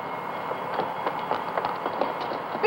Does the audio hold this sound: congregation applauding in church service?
no